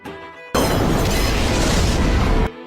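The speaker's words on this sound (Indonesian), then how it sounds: "mobil tangki itu meledak dengan keras" A sudden loud roaring blast that stays dense and sustained for about two seconds before cutting off, a tanker truck exploding.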